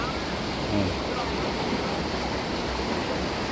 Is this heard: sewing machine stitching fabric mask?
no